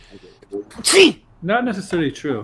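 One sharp, loud sneeze bursts out close by in the middle of a live talk show, with people speaking just before and after it.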